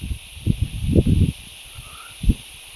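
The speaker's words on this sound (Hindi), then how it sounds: "कितना सुनहरा हवा चला हुआ है।" Wind blows through green forested hills, a steady airy hiss broken by low, rumbling gusts that swell and fade, with no voices.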